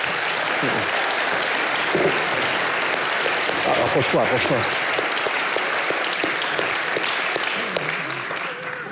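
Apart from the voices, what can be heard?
audience applause after a conference talk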